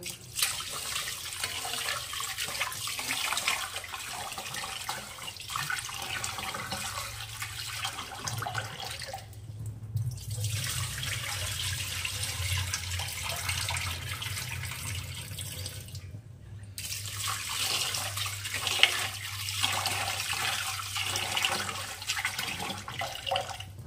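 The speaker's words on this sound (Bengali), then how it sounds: "এই অবস্থায় আমি জলটাকে ড্রেন করব।" Rinse water drains from washed rice for khichuri, a continuous close splashing and trickling flow with a low gurgling undertone, briefly interrupted twice before resuming.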